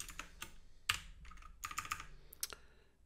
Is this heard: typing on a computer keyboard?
yes